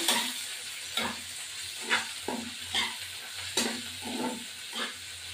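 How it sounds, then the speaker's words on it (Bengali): A spatula stirs tomato masala with chili and coriander powder in a frying pan, making about seven rhythmic scraping strokes over a soft background sizzle. "নাড়া দেবো।"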